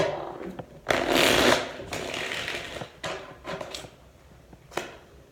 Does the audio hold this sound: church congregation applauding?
no